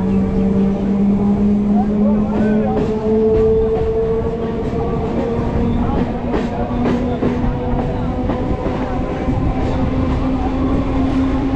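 A local train runs past Ballygunge station, its loud rumble and clattering wheels close by, with a rising tonal whine and voices faintly mixed into the steady din.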